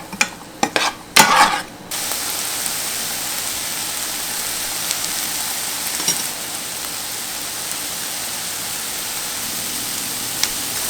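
Chopped onions and a tablespoon of garlic sizzle steadily in a pan, a constant frying hiss that follows a few brief clattering stirs at the start.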